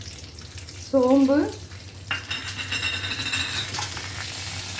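Chana dal and urad dal fry in hot oil for a tempering, a soft crackling sizzle heard under a voice, with a short tonal squeak early and light clinks of a spoon.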